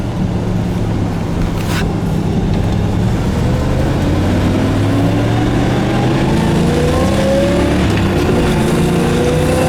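A 1966 Chevrolet Impala convertible's loud engine revs up steadily, pitch climbing as it pulls through the gears, strong and continuous throughout.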